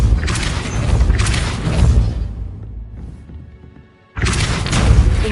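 A Depulso force spell is cast in the Hogwarts Legacy video game, producing loud, dense booming blasts that fade into a quieter gap before another heavy burst hits abruptly.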